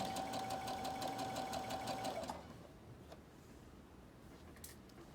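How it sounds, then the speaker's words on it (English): A sewing machine runs steadily at speed stitching a long side seam with pockets, a fast even rattle with a sustained whine, then stops abruptly after about two seconds, leaving a quiet room with faint clicks. "I'm gonna sew all the way up and back stitch"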